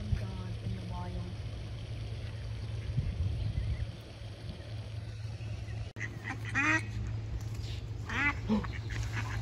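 Ducks on a farm pond quack and squabble in repeated harsh bursts during a fight over a female, heard at a moderate distance over steady low engine-like hum, with people talking nearby.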